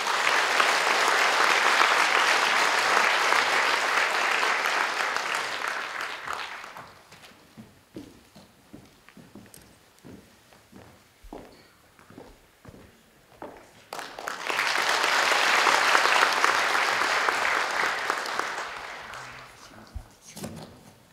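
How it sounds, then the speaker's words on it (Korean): Audience applause at a Christian leaders' forum welcoming the Côte d'Ivoire ambassador: two broad, loud waves of dense clapping, separated by a quieter stretch of scattered claps and footsteps as he walks up. "여러분 박수로 맞아주시기 바랍니다"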